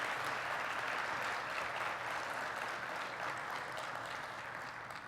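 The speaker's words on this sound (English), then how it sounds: "let's have a round of applause for all of our" Audience at a communication association's annual convention awards presentation applauds its award winners, a dense, steady wash of clapping from a large crowd that holds for several seconds and tapers slightly at the end.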